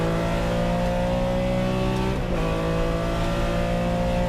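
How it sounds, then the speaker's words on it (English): Race cars including a 1975 Porsche 3.0 Carrera RSR roar steadily at full throttle on the final lap of a vintage Rolex race, a continuous loud engine drone with a brief dip and gear change midway. "Canepa, Hogan, McNeil, Epsman, Jeanette, the top 5 as they start their final lap"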